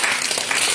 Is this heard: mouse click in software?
no